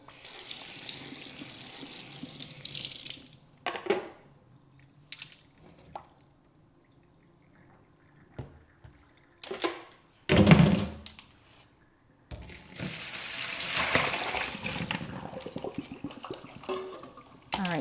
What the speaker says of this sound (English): And now I am going to remove the water.